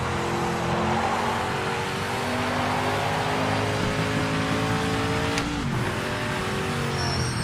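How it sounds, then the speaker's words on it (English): Sim racing GT race car in Project Motor Racing, loud engine note holding steady with gear changes and a sharp downshift blip near the end, steady and close throughout, no talking. "The downshifts on these GTOs are the most satisfying thing ever."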